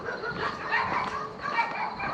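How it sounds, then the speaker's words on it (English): Loose dogs bark and yip at night in a northern Bratislava neighborhood, several faint, distant voices overlapping in bursts. "there could be like loose dogs walking around here. I hear them yelling"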